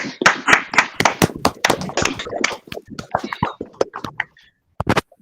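A small audience at a machine learning talk claps for a speaker, with a few scattered, uneven claps fading out into near silence, then a last pair of claps.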